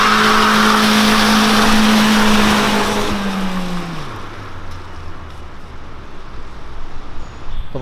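A grey car does a launch start from rest, its loud engine revving high and steady for about three seconds before the pitch drops away, leaving a fading rumble and road noise.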